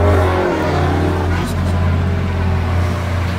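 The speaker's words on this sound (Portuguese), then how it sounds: "Ó, o barulho da moto." A Honda Hornet motorcycle engine hums steadily nearby with a low droning tone, its pitch holding fairly even over a few seconds.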